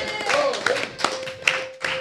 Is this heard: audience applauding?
yes